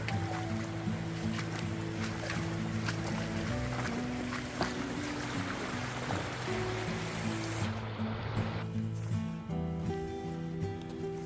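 Rushing mountain creek water along the Pacific Crest Trail, a steady broadband roar close by that persists throughout, with low tonal hums layered beneath.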